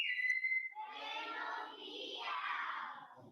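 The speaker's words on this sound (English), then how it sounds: "Y así empecé a silbar." A person whistles a steady, wavering tune for about three seconds, close and fairly loud, alone with no talk.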